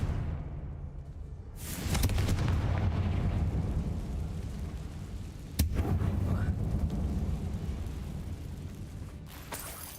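The Confringo explosion spell in the video game Hogwarts Legacy goes off inside an abandoned mine, with a sudden loud rumbling blast that rolls on, then a sharp second crack midway and another burst at the end.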